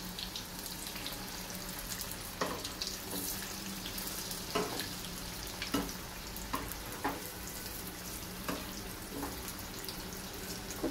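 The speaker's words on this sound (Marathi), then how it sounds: "तळून घ्यायचे आहेत आपल्याला छान।" Potato bhaji fry in oil with a steady bubbling sizzle, broken every second or so by sharp clicks and taps from a utensil, and no voices are heard.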